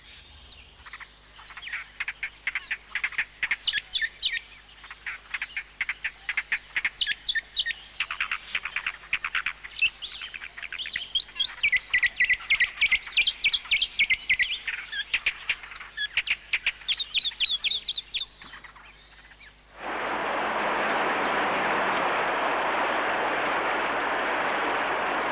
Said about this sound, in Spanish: El pimiento prodiga sus abundantes frutos a la tenca. Y ella nos da generosamente melodías inconfundibles, las más bellas entre las aves de Chile.